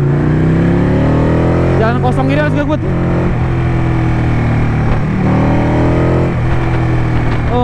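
A Ducati motorcycle engine revving on a Jakarta street, loud and close, with a rising burst of revs in the middle over a steady low drone, and someone talking briefly over it.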